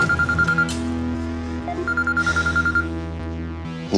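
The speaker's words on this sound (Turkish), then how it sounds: "Niye açmıyor bu herifler telefonu?" A telephone rings unanswered, a loud, evenly pulsing electronic tone repeating in bursts over droning background music, with no voices.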